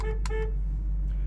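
The horn of a 1968 Pontiac Firebird sounds two short, loud beeps in quick succession over a low steady rumble inside the car.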